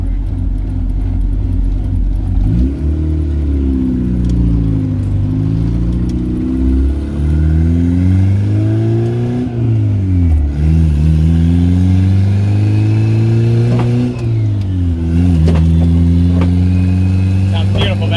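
A turbocharged B18-swapped Honda Civic engine revs up through the gears on its first drive, with repeated rising pulls and shifts heard from inside the car, loud and close, while people talk over it.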